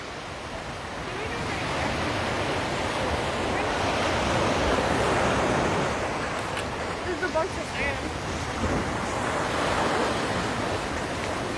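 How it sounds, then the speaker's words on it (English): Ocean waves pound against a sea wall at Waikiki Beach, a continuous loud roar of surf and spray with rising and falling surges, mixed with wind buffeting the microphone. "Those waves are just pommeling that that wall right there."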